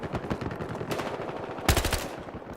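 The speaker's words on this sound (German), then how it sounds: "Irgendjemand hat gerade auf mich geschossen." Rapid automatic gunfire from a Battlefield Hardline multiplayer match crackles in bursts throughout, with a sharper, louder volley near the end, set against constant game background noise.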